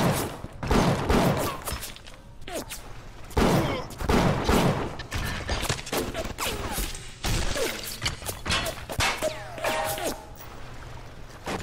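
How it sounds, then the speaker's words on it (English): Machine gun fire in Bioshock erupts in repeated loud bursts of sharp rattling shots, separated by short gaps with mechanical clanks and game noise, no talking. "So that machine gun was making really short work of me"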